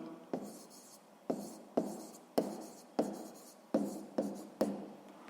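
Pen strokes writing a sixth-grade math solution by hand on paper, a series of about eight sharp scratchy taps and short strokes in an uneven rhythm, close and clear with no talk.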